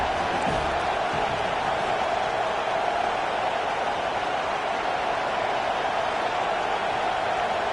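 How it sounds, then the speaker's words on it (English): A football stadium crowd roars against Nebraska's offense in a game against Ohio. The loud wash of noise stays constant from start to finish, with no breaks and no clear individual voices. "This crowd trying to make life miserable for this offense."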